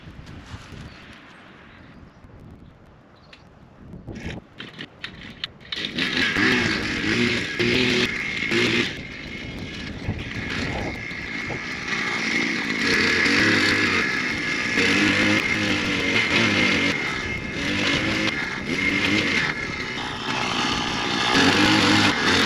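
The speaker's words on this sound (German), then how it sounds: "Gut, wir bohren jetzt mal die ganzen Löcher." A motorized earth auger drills planting holes for trees in an orchard meadow, starting quiet and then running as a loud, sustained engine roar with shifting load and pitch.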